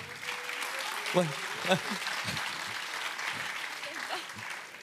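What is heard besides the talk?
audience applause for Géraldine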